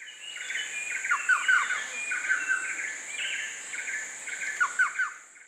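A racket-tailed treepie calls in a Laos rain forest, giving a series of short, harsh chirping notes over a constant high insect drone and forest ambience.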